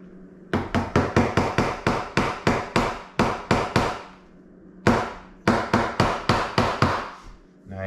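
Steady, rapid hammer blows on a metal door lock plate, hammering down the length of its slot in two runs separated by a short pause, each strike sharp and close by.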